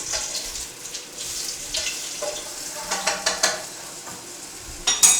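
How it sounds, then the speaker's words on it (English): Garlic dropped into hot oil alongside a steak in a pan, giving a steady sizzling hiss with a few louder crackling bursts near the end, close and alone with no talking. "And throw that garlic right in that oil."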